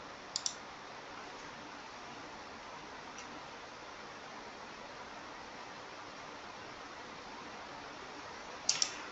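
Two faint, brief computer mouse button clicks, one near the start and a double click near the end, stand out over a steady low hiss in quiet software use.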